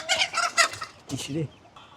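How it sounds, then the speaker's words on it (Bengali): Chickens being let out after a day penned cluck in short, close bursts, a few quick calls followed by a lower throaty cluck. "তো মুরগিগুলোকে আজকে সারাদিন পরে ছাড়ছি"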